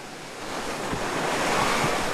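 Ocean waves of the Andaman Sea wash and roll steadily in a continuous broad surf hiss with some wind noise, close and fairly loud, with no talk.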